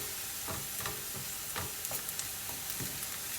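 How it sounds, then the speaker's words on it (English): Onions frying in oil for an Anglo-Indian chicken curry, a bright continuous sizzle broken by soft stirring scrapes every half second or so, close and steady with no one speaking. "The onions are almost done."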